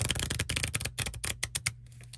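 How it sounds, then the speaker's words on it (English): A deck of playing cards is shuffled close up in quiet ASMR style, with rapid crackling riffle bursts and soft flutters that trail off into a few sparse taps. "Just going to get my deck shuffled."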